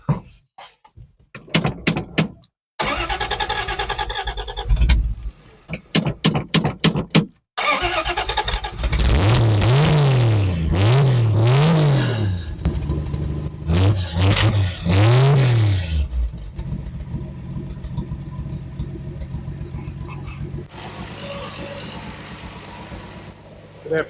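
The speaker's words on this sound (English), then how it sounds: "we can actually start it inside the car" An old car left sitting for about 40 years is brought back to life: several stuttering bursts of cranking, then the engine catches and revs up and down repeatedly before settling into a rough idle. The sound is close and loud, with occasional voices.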